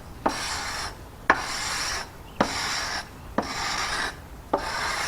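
A rasp files hickory wood for a longbow in five slow, even strokes, each starting with a sharp scrape and trailing into a rough hiss, close and clear.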